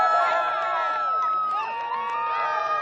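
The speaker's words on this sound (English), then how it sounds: "Our Florida employees once again are gathering for a second attempt" Employees gathered in Florida for the New Glenn launch attempt cheer and shout as a lively crowd, with overlapping high excited voices carrying throughout at moderate, somewhat distant level.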